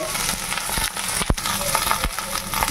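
Okra stirred in a pan with salt and turmeric, a steady close sizzle with scraping spatula strokes and a few sharper knocks, no talk.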